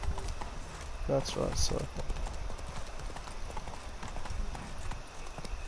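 Hooves of Roach, a horse in The Witcher 3 video game, clip-clop at a steady pace beneath someone speaking briefly, with game ambience continuing after he stops.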